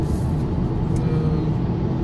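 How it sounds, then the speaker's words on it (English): Steady road and tire roar from a 2019 Porsche Macan cruising at speed on a motorway, a low, even hum with no talking. "The sound from the car is like from the tires, from the wing mirrors, or stuff like that."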